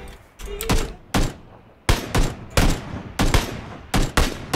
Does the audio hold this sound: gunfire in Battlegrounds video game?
yes